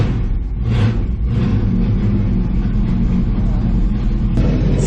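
A car engine cranks to life and revs after having run out of gas, with a steady loud mid-range rumble filling the whole stretch and no speech.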